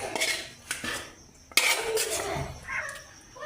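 Utensils clink and scrape against dishes while vegetables are placed onto a paratha for a veg roll, a few sharp close taps with quieter shuffling between.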